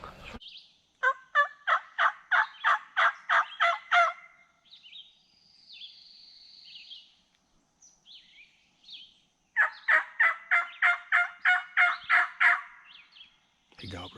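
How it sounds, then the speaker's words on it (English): A wild turkey gobbler in the Alabama woods gobbles twice, each call a rapid burst of loud rattling notes lasting a few seconds, separated by a quiet stretch with faint birdsong; no talking over the calls. "He's gobbled twice at us so far."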